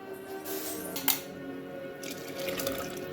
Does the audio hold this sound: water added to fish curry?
yes